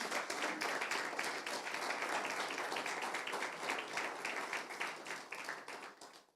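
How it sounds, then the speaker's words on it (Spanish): A church congregation claps, dense, sustained applause up close, slowly fading toward the end with no talk. "Démosle un fuerte aplauso a Jesús"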